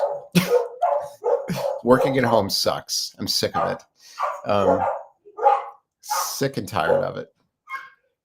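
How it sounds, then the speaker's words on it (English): Dogs bark repeatedly in the background while a person talks over them in short, agitated phrases. "dogs barking, fine, they'll calm down"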